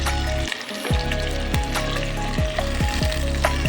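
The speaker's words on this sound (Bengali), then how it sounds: "তেলটা গরম হয়ে গেছে এবার গাজরটা দিয়ে দিচ্ছি ভাজার জন্য" Carrots and potatoes hitting hot oil, giving a loud, close, continuous frying sizzle with brief bursts and crackles as the pieces settle.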